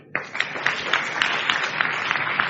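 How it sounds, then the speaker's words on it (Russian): Audience at a ministry training school session breaks into applause, a dense, steady clatter of many hands clapping that starts abruptly and keeps going at an even level throughout, with no talking over it. "Дайте ему аплодисмент."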